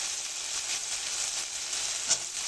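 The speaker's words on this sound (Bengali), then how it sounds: "মাছ মশলাটা খুব ভালো করে কষিয়ে নিয়েছি।" Snakehead fish coated in spice paste sizzles and fries in a pan, a steady even hiss throughout with a slight louder pop near the end, no talking.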